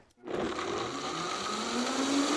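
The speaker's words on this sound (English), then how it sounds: "We're gonna blend them up and it's going to make the gravy nice and thick" Blender whirring loudly up close as it purees gravy thickened with soaked raw cashews, starting abruptly and running steadily with a slowly rising pitch.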